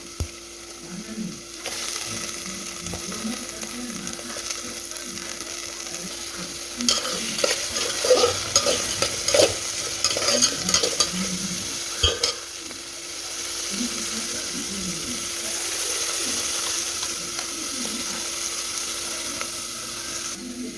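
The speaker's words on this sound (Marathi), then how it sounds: "कांदा लवकर तळत नाही म्हणून सुरुवातीला कांदाच आपण तळून घेऊया" Steady sizzling of onion frying in a pan, with occasional stirring scrapes and clatters in the middle, continuous and close throughout.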